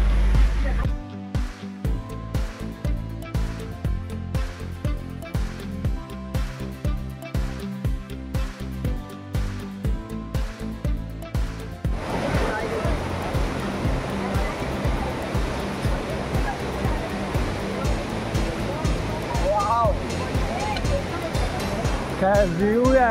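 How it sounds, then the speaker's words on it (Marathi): A river flowing outdoors near Ganpatipule in the Konkan region: a steady, loud rush of moving water fills the background, with rhythmic music pulses at first and people talking throughout. "नदी आहे ती"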